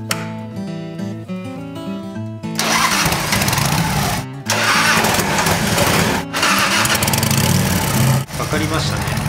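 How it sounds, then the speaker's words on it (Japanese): A car engine cranks and fires up using an Antigravity Micro-Start XP-10 jump starter, a brief whirring crank followed by a loud, steady running engine close by with a few dips in level. "ではエンジンスタートをしてみたいと思います。"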